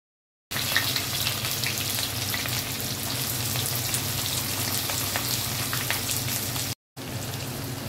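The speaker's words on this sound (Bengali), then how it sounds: "আস্তে আস্তে পেঁয়াজগুলো ভাজতে থাকি" Onions frying in oil with bay leaf and dried red chilli, a steady dense sizzle and crackle that runs nearly unbroken, close and even in level, with a brief cut near the end.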